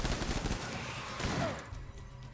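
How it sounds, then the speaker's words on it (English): Rapid gunfire crackles in the video game Death Stranding, a dense burst of shots that fades after a couple of seconds. "Am I hearing gunfire? Somebody's shooting at me?"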